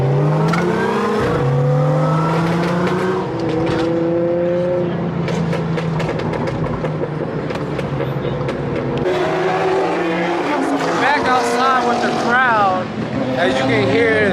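Cars drive and rev loudly at a crowded car meet in Gatlinburg. Engines drone and rise in pitch over a continuous roar, with whining revs near the end and voices mixed in.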